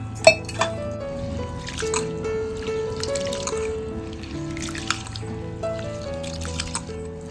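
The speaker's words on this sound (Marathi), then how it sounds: "त्याच्यामध्ये थोडंसं पाणी घालतोय" Water is poured onto rice for masala khichdi, giving soft trickling and dripping sounds with a few sharper splashes, close and fairly quiet.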